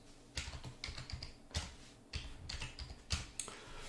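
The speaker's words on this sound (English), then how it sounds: "I'm going to use the upper arrow key on my keyboard" Keys tapped on a computer keyboard in quick irregular bursts of clicks, close and fairly quiet, with no voices.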